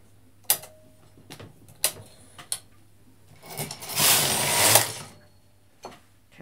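A machine knitting one row of red yarn, a few sharp clicks followed by a longer rising carriage swoosh across the bed, close and alone.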